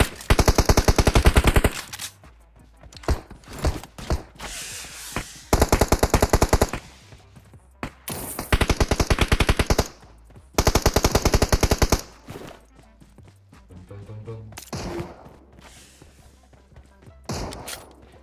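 Automatic gunfire in PUBG Mobile, several loud bursts of rapid machine-gun shots separated by quieter gaps, with occasional single thuds.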